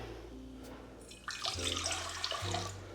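Warm water for sandwich bread dough pours into a mixing bowl in a close, continuous splashing stream that swells and steadies over a few seconds.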